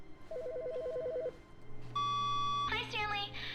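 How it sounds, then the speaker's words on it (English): A phone rings in Stanley Parable Ultra Deluxe: a rapid warbling electronic ring trills for about a second, then a steady tone sounds and gives way to a brighter chiming burst, all close and clear. "Phone call."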